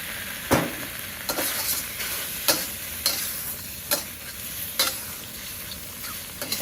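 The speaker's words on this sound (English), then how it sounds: "Now we're going to brown the meat." Beef browns in a wok on an outdoor wok station, sizzling steadily with about nine sharp scraping stirs spaced roughly every half second to second.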